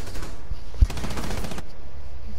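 Rapid burst of automatic gunfire echoing inside an elevator shaft in Rainbow Six Siege, a dense rattling volley with one sharp peak, loud and close over steady game ambience.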